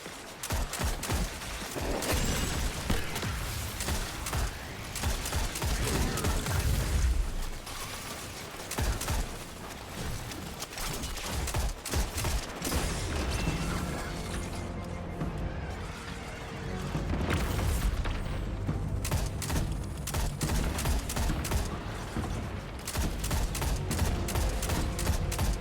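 Sustained, dense gunfire from turrets in Destiny 2, with rapid overlapping shots and booms continuing loudly throughout.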